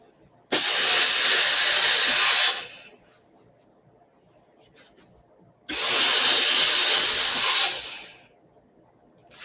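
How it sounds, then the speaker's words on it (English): A steam iron releases two bursts of steam onto an opened fabric seam, each a broad, fairly loud hiss of about two seconds, separated by a few seconds of quiet. "I'm going to give it just a little steam there so it's nice and open."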